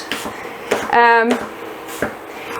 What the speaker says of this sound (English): all you need to do is just kind of slice it in these small slices like that